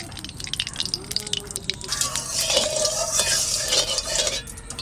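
Small pond tengra fish being rubbed with oil by hand in a metal bowl, wet squelching and slippery stirring with light clinks of the dish, growing busier midway.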